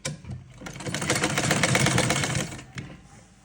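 An electric sewing machine runs in one steady burst of about two seconds, stitching the sleeve seam of a kameez. It spins up quickly and then cuts off, with no talk over it.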